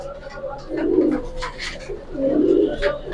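Pigeons at a market coo in two soft, rolling bursts close by, with faint background murmur between them.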